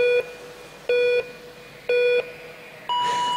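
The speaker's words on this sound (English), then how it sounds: "You'll hear the first beep at 10 and then 5 more beeps down to 0" A countdown clock at the Manchester Velodrome beeps during a track cycling World Cup session, three evenly spaced mid-pitched tones followed by a higher, longer final tone, clear and alone.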